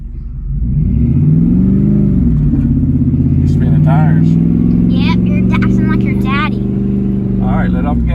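A vehicle engine revs up and holds a loud, steady roar as a beginner driver practices taking off quickly in a manual-clutch scrap hauler, with voices and occasional chirpy sounds over the sustained engine drone.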